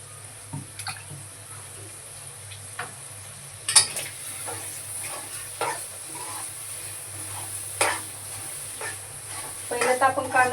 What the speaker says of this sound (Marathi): आता आपण याला पण थोडंसं भाजून घेऊया कोळंबी बरोबरच